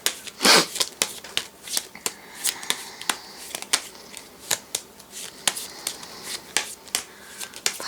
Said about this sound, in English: Let's shuffle these magic cards.